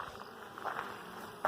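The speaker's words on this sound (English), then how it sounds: "Here are the bees. Coming in and out." Honeybees flying in and out at the entrance of a beehive make a faint, steady buzzing hum throughout, with a few brief louder swells as individual bees pass close and a short bump at the end.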